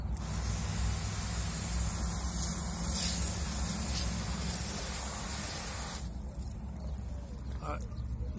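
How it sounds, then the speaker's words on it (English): A steady hissing spray of water runs for several seconds over a section of a slide, then cuts out, leaving a quieter background hum with a brief faint trickle. "just spray off a little section so they can see the difference now."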